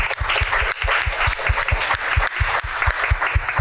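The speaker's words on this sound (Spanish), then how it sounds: "Un aplauso, por favor, para Fernando." An audience applauds guest Fernando at a talk on adapting Peruvian literary works into comics: dense, steady clapping close and loud, with a regular low thumping running beneath it throughout.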